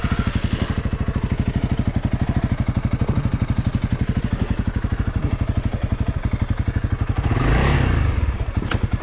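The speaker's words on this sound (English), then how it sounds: "Bike's ready to go, for sure." A Honda CRF300L motorcycle idling and pulling away in arctic cold around -10°C, its engine putting out a steady throbbing pulse up close, rising briefly into a louder rev near the end.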